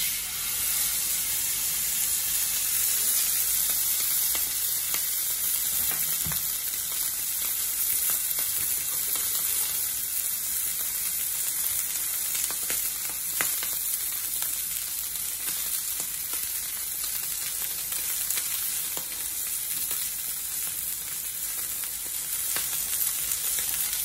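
Food sizzles and fries steadily in a smoking-hot frying pan during a home dinner cook, a continuous loud crackling hiss lasting throughout with no talking.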